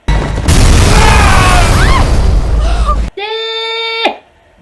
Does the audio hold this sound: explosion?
yes